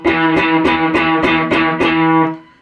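Distorted electric guitar plays the main riff with fretting-hand muting, giving about eight evenly spaced percussive muted strums, loud and gritty, ending in a brief fade.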